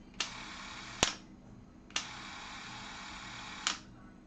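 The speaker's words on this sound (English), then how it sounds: "Here's the shutter release right here. Now watch and listen." A film camera's shutter release clicks four times at uneven spacing, each a sharp mechanical snap over a steady low background hum, close and fairly quiet, with no talking.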